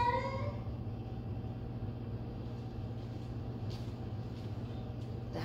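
A cat gives a short, creepy wavering cry right at the start, then falls silent over a steady low rumbling hum that continues to the end.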